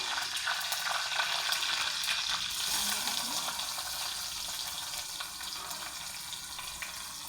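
Chopped onion and two finely cut tomatoes fry in a pan for sambar, giving a steady, close sizzle with a watery crackle that holds evenly throughout, with no talk.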